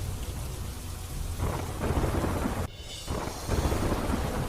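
Heavy monsoon rain pouring down in Dwarka, Gujarat, a dense, loud, continuous hiss of falling water that briefly thins before returning at full strength.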